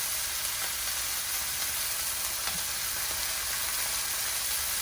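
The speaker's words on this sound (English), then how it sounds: "So let's go ahead and sear it nice. Make sure all the pieces are seared." Chicken pieces sear in a pan for Coca-Cola chicken, producing a steady, even hiss of sizzling fat with faint occasional pops and no speech.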